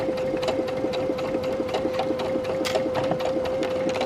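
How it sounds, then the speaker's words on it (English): A sewing machine runs steadily, stitching a seam up toward the facing on a cami, its fast even mechanical whir and tick continuing unbroken and close throughout. "Okay, so we're now sewing that seam up towards our facing."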